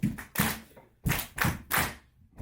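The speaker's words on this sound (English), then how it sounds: "okay, you guys clap along with that and I'll get into it?" An audience claps along in the stomp-stomp-clap pattern of We Will Rock You, giving a steady series of loud, roomy thuds and claps with brief pauses between groups.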